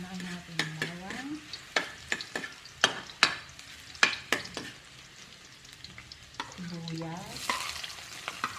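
Garlic frying in a pan, with a soft sizzle under repeated sharp clinks and scrapes of stirring, plus a few brief tonal glides near the start and end.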